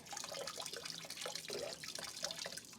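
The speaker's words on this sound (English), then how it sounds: "I'm going to take this and I'm going to add some boiling water" Boiling water is poured as part of mead making, giving a soft, continuous splashing and dripping liquid sound that stays steady and fairly quiet throughout, with no talking.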